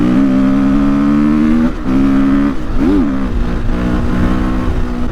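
A Husqvarna motorcycle engine, an injected 350 FE enduro bike, idling loudly and close with a steady buzzing drone, blipped into a brief rising and falling rev midway before settling back to idle.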